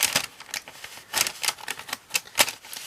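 Surprise pouch of scrapbooking goods being opened up close: a run of crisp, irregular crinkling and tearing bursts from plastic or paper packaging, with no talk.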